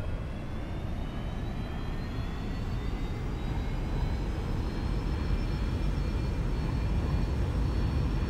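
Airplane engines in X-Plane 11 throttle up for takeoff, a loud, steady roar with a rising whine that climbs slowly in pitch and grows slightly louder over about eight seconds.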